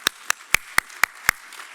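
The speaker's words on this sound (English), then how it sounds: "big round of applause" A few scattered hand claps, about six evenly spaced sharp claps from a small audience at an immunisation update event, fading out after a second or so without joining into full applause.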